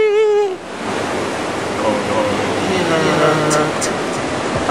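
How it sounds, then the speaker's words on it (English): Water waves splashing and washing as a broad, steady hiss of moving water, continuous and fairly loud, with a brief voice-like tone at the start and faint scattered chirps over the wash. "Water waves will reflect just like light waves."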